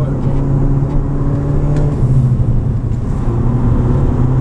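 An Audi TT on a race circuit, its engine droning steadily and loudly at sustained revs with a slight pitch shift partway through, heard from close by without talk.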